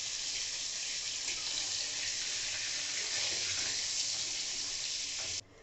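Koi fish frying in hot oil makes a loud, steady, close hiss that holds evenly and then cuts off abruptly near the end, with no speech.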